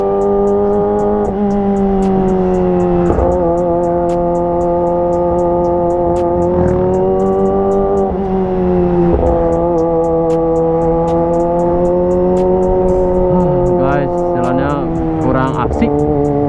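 A Kawasaki ZX25RR motorcycle engine holds a loud, steady high-revving drone at speed, its pitch wavering slightly, while a voice talks over it.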